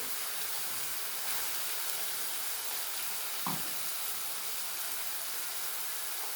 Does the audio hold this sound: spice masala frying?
yes